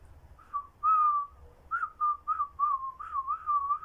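A person whistles a simple tune alone, clear and close, a long held note followed by a run of short rising and falling phrases with brief gaps.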